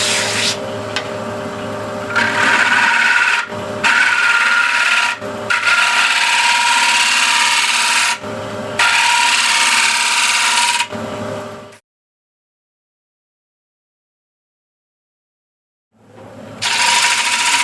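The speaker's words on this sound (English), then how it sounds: "So now what I'll actually try to do is use a shear scraper" A shear scraper blends the surface of a wooden piece turning on a lathe, producing a steady, close rasping scrape with brief pauses, then about four seconds of silence before the scraping resumes.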